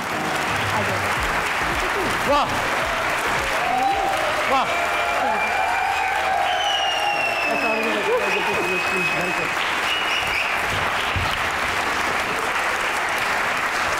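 A studio audience applauds loudly and without a break for a comedy talk show's guests, Nadia Khan and Wing Commander Faisal, with music playing underneath and a voice briefly calling out over the clapping.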